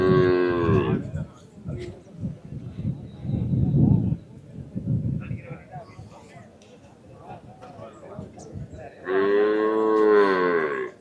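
Cattle lowing at a village native-breed cattle market in Palayakottai, two loud drawn-out moos near the start and end, with people talking and market bustle in between.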